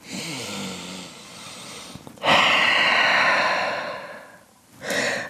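Deep, slow breaths up close: a long, heavy exhale, a pause, then another strong breath, rising and fading with no speech.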